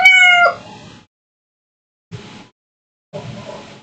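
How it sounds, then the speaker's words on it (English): A single close cat meow opens the moment, loud and drawn out for about half a second, followed by fainter rustling and small indoor sounds separated by silence. "What are you meowing at?"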